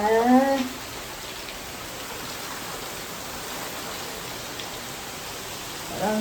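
Steady, dense hiss of heavy rain pouring down, with a voice briefly speaking at the start and again at the very end.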